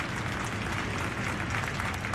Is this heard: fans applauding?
yes